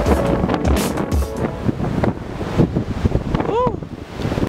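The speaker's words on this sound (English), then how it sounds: "it was so windy" Strong wind blows beside a lake in Italy, buffeting the microphone in uneven rushing gusts. Voices can be heard faintly beneath the noise, and a brief high whistle cuts through partway along.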